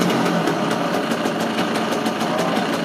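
Engine of a 1965 Lambretta scooter idling, a steady, fast-pulsing putter held close and loud throughout, with no voices.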